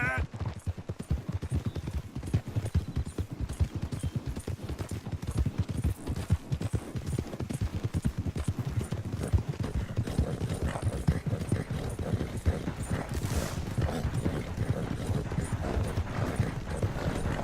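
Horse hooves clip-clop at a steady gallop in Red Dead Redemption 2, continuous and close throughout, with game music and occasional character voices over them.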